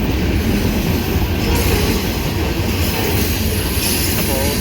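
A freight train rolls past close by, old Detroit & Mackinac boxcar among the cars, giving a loud, dense roar of wheels on rail with rattling and a faint squeal, unbroken throughout.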